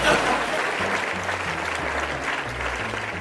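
Recorded audience breaking into loud, sustained applause and cheering, a dense steady wash of clapping from a large crowd with no talk over it.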